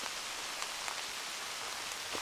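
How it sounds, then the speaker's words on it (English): Rain falls on a hiking trail along the Continental Divide, a soft steady patter with scattered individual drops ticking close by, no voices. "Well, the rain is here."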